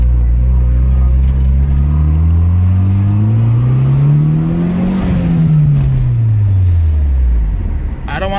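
A car with a new, untuned motor and a blown turbo makes a hard acceleration pull, the engine note climbing steadily and loudly up close before easing back down as it lets off.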